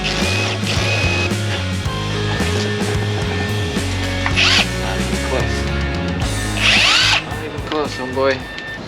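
Power drill with a paddle bit countersinking bolt holes for a carport roof, a steady loud whine running throughout with pitch shifts as it bites, and a voice speaking over it.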